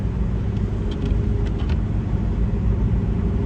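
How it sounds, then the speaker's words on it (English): Heard from inside a noisy car, a steady, loud low engine rumble drones on without a break, with no one talking. "My car is kind of noisy though."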